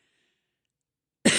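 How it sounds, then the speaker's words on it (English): After more than a second of silence, one abrupt, loud cough lands right into the microphone, close and harsh, and the clip ends with it. "I'm coughing right into the microphone."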